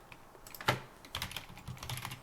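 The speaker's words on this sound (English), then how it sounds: "I would just type password here in the password field" Typing on a computer keyboard as a password is entered into a login field: a short burst of quick, close clicking keystrokes, with one louder tap near the start, no talking.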